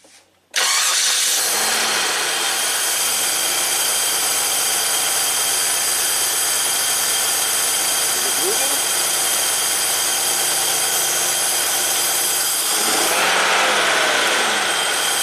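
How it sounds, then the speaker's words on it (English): A Cadillac Allante's Northstar V8 cranks and catches, then settles into a loud, steady high idle that holds throughout, with a slight rise in revs near the end. "So let me start it up and we'll see what it does on a flare-up."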